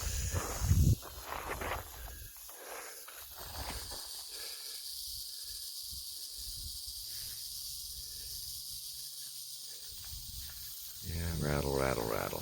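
A rattlesnake on a trail in the Kennedy Meadows area buzzes in a faint, continuous dry hiss under outdoor ambience, with a brief rustle near the start and a louder scuffle at the end.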